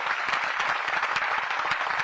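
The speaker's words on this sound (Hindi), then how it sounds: "एक बार इन सबके लिए तालियां बजा दीजिए" Audience applause for students on a hunger strike in Delhi, a steady dense patter of many hands clapping at close range, filling the short moment without talk.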